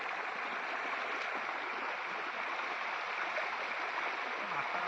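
Fast-flowing stream water in a flooded channel rushes past in a steady, broad roar, close and continuous with no voices over it.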